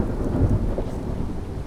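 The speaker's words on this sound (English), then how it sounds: "There's a storm outside." A thunderstorm rages in the video game Skyrim, with a steady wash of heavy rain and deep, continuous thunder rumbling loud and close throughout.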